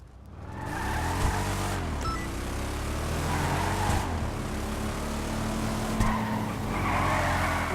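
A Declasse Vamos muscle car engine in Grand Theft Auto 5 roars steadily with tire squeal and skidding over it, loud and continuous, with a thin, shallow engine note and no talking.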